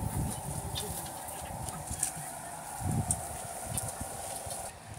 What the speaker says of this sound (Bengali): এগুলো করকনাথ মুরগি।